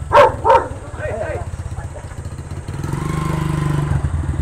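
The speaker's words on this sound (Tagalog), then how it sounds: "Anong motor yun, Lo?" Two dog barks come first, then a Suzuki motorcycle engine settles into a steady low rumble, played through a robot-style Bluetooth speaker during a sound check.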